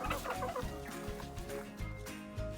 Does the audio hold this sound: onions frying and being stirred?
no